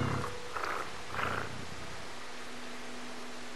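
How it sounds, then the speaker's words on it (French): A cat purring in the video game Stray, a soft low rumble for the first second or so, then quieter, with a faint steady hum continuing. "Oh, ça ronronne."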